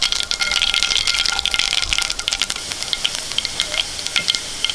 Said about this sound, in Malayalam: കുറച്ച് വെളിച്ചെണ്ണ ഒഴിച്ചു കൊടുക്കാം കുറച്ച് കടുക് ഇട്ട് കൊടുക്കാം അര ടീസ്പൂണ് ഉഴുന്ന് ഇടാം